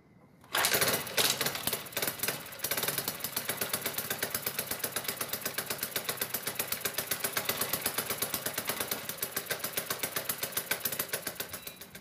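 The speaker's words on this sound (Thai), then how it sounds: "สตาร์ทเครื่องแล้วเสียงเครื่องจะเป็นยังไง" A Suzuki Choinori scooter engine cranks and catches, then settles into a steady rapid putter at idle, close and mechanical, after a replaced fuel tank valve seal and fuel hose.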